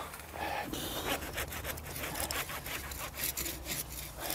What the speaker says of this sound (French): C'est tellement fin, on se dit qu'en 2 coups de scie, on va lui faire son compte.